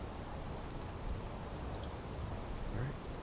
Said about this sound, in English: Still soothing to hear the rain.